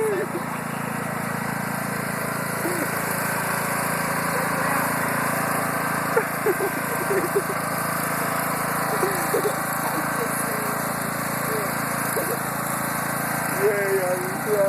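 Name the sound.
tractor engine running while being driven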